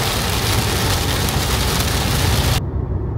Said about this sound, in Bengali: আর দেখুন কি মুষলধারে বৃষ্টি নামলো।